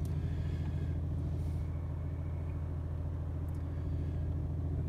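A car engine idles steadily just after starting, a low continuous rumble heard from inside the cabin of a car with a 6-speed manual gearbox, with no talking.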